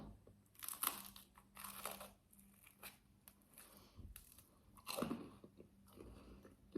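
Bruschetta made on hard, properly cut bread from Migros, bitten and chewed up close: several quiet, sharp crunches in separate bursts, followed by softer chewing.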